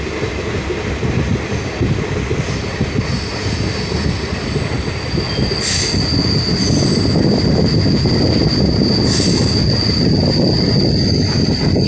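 The 07526 DEMU passenger train runs slowly through forest near New Mal Junction in North Bengal, a loud, close, continuous rumble of rolling wheels topped by sustained high metallic squeals from the rails.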